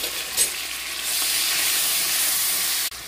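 Garlic frying in a pan with onion gives a close, steady hiss that swells louder after about a second and holds evenly, with a soft knock early on, then cuts off abruptly just before the end.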